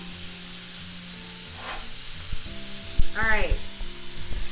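Ribeye steak pieces sizzle steadily on a flat top griddle with mushrooms, onions and peppers, then a metal spatula scrapes and stirs them, briefly louder. Someone speaks at the start.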